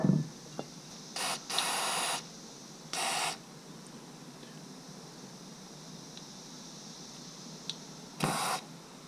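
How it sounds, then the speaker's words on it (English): Short bursts of cleaner spray hitting disassembled carburetor parts from a 1980 Honda XL250S motorcycle, several quick hisses separated by pauses, with faint handling clicks in a quiet workshop. "I'm going to spray it all down, of course, and clean all these parts before I put them back in the carb."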